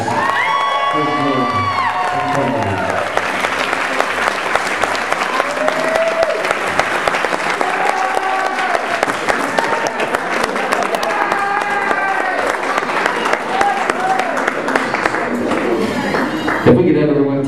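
Wedding guests applaud and cheer together at a reception, a dense sustained wash of clapping with whoops and shouts rising through it, voices chattering underneath, ending abruptly.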